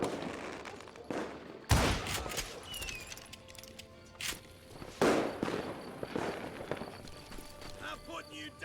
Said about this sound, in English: I couldn't tell if that was a person or not. I just shot at it.